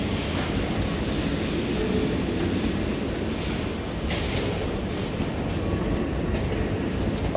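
A Class 465 electric train passes through London Victoria station, its loud, steady rumble and rhythmic wheel clatter filling the whole stretch without a break.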